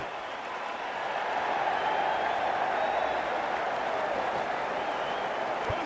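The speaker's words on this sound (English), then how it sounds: "they'll receive a warm reception from the crowd" Stadium crowd applause in the cricket video game Cricket 24, a continuous broad wash of clapping and crowd noise that holds steady throughout, with no commentary over it.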